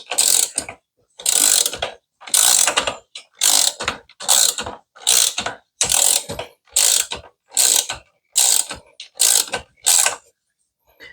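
A ratchet wrench tightens a 17 nut in a dozen quick bursts of dense clicking, each about half a second long and separated by short pauses, close up and loud.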